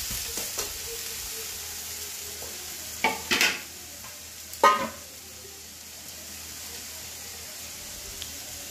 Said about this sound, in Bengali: দেখো শাক ভাজা হয়ে গেছে